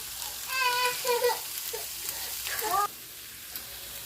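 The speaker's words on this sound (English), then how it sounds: "you just want to stir and cook it until the tomato paste is darkened some" Tomato paste with Italian seasoning, chili powder and diced tomatoes sizzles loudly in a pan while being stirred, a close steady frying hiss with scraping strokes and a voice talking over parts of it.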